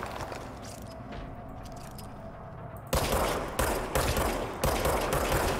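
Gunfire in the game Control: after a steady background hum, a run of loud, close shots bursts out in an uneven rhythm, each crack landing a fraction of a second to a second apart.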